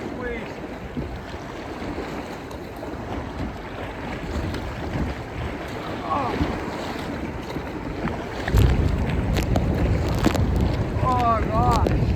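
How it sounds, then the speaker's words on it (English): Water sloshing and splashing around a kayak in big waves in Southern Ontario, with wind buffeting the microphone, growing louder with a heavier splash near the end. "fucking huge waves"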